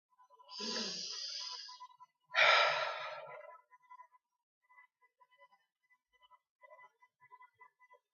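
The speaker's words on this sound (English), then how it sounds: "Some deep breaths." Two deep, audible breaths during EFT tapping for anger, a long inhale and a stronger exhale, followed by quiet faint tapping-like ticks.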